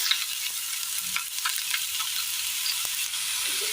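Chopped onion with ginger sautéing in hot oil after mustard seeds have popped, a steady soft sizzle with a few faint stirring scrapes, alone without talk.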